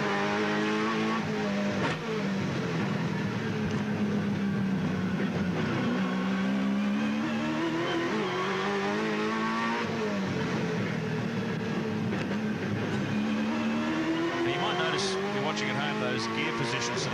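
Castrol Holden Commodore VT V8 Supercar from 1998 racing at Oran Park, heard onboard: a loud continuous V8 roar climbing through revs with gear shifts, while a commentator talks over it.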